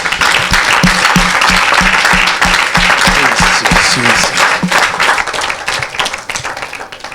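Church congregation applauding loudly during a worship service, with dense sustained clapping and cheering plus rhythmic low drum or music beats underneath, tapering off slightly at the end.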